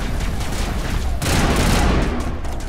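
Dense, continuous gunfire from a Mass Effect Legendary firefight, a steady loud barrage of shots that swells even heavier about halfway through and keeps going with no break.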